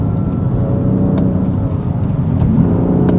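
A BMW M3 engine in Sport Plus mode rumbles loudly and steadily close by, with a deep throaty drone and faint clicks.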